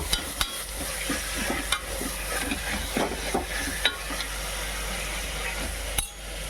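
Minced mutton sizzles in a pan under a steady hiss, with repeated scraping and clinking as it is stirred, close by.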